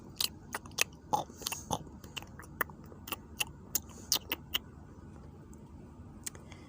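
Someone bites and chews crisp apples, with a scattered run of sharp, close crunches spaced irregularly over a faint low background.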